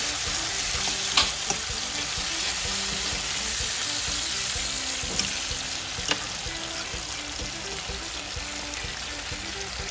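Salmon fries steadily in a pan for a Jamaican breakfast, giving a dense, even sizzle that runs throughout with a few faint clicks and taps on top and no speech.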